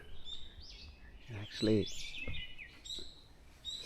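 Birds in a forest on Bongseosan give scattered chirps and short whistled calls, moderately near, while a person speaks briefly.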